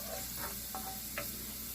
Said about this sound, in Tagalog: Umpisa na natin sa paggigisa ng bawang.